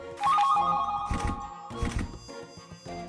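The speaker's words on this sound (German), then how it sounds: "Nee, das war ein Telefon, ne?" A telephone ringing in the video game There Is No Game, an electronic bell-like ring that comes in repeated bursts, loud and close, with harmonic tones between the rings and no talk.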